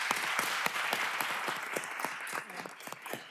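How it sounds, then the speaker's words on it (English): Applause from the audience at a city council meeting, with distinct nearby claps over a fainter crowd that taper off toward the end. "So give her a round of applause."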